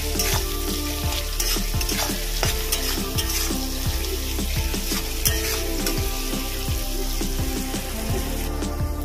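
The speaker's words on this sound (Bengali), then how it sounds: "এবার পেঁয়াজটাকে ভালো করে ভেজে নেব।" Onion sizzling loudly in a pan with salt, a dense continuous fry punctuated by frequent scraping stirs and spatula taps, close and steady throughout with no talk.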